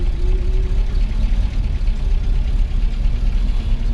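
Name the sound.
1959 Ford Galaxie 500 engine running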